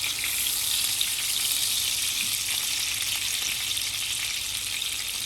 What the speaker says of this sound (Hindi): बस हमने इसको हल्का सा फ्राई करना है